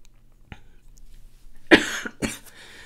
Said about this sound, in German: ich musste husten